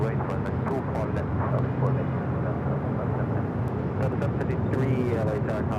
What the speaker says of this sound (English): ITA heading back to Rome in this A330 Neo